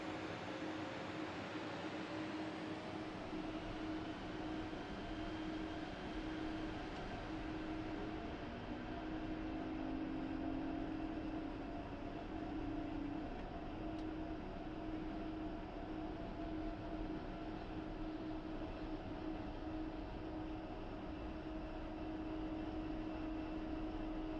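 A military jet in the DCS flight simulator taxis along a runway, its engine giving a loud, steady whine and rumble that holds throughout.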